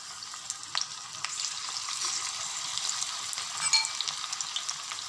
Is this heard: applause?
no